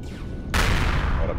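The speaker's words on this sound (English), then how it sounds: "Now it's going to be some big booms." A sudden loud boom erupts in the Empyrion space game, cutting in after a quiet stretch and sustaining as a broad rumbling blast from a dreadnought battle, with artillery-like reports mixed in.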